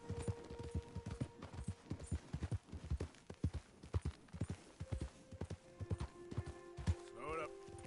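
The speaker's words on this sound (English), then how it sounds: "Slow it up. Yeah, slow it up, horsey." Horse hooves clip-clop in Red Dead Redemption 2, a rhythmic run of close, distinct thuds over game ambience, with a voice talking at moments.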